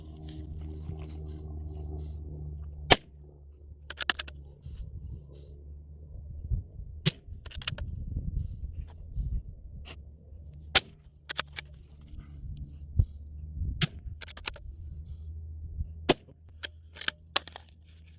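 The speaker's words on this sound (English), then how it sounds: "Spontaneous dry firing." A rifle is dry fired in practice, sharp isolated clicks of the trigger and action spaced irregularly over a quiet low background hum, with several snaps clustered close together later on.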